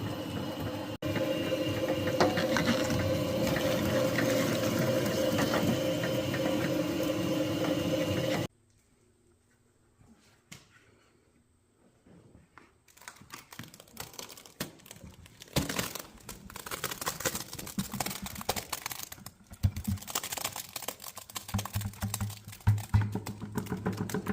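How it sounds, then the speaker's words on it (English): An apple grinder chews through apples for cider, giving a dense mechanical grinding and crunching that stops suddenly for a few seconds of near quiet, then comes back as uneven crunches and clatters. "Kelly started the grinding process."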